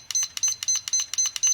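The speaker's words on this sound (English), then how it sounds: "Let me get a timer set." A kitchen timer being set gives a quick series of about six bright electronic beeps in a steady rhythm, close and clear against a quiet background.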